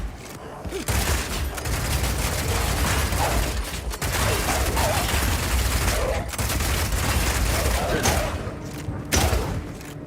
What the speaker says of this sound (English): Rapid shot is great for closing on enemies because you can shoot while running.